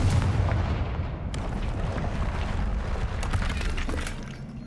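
Confringo blasting spell from the video game Hogwarts Legacy, a burst of loud, crackling blasts and debris-like rumble, with sharp impacts near the start and again in a cluster toward the end.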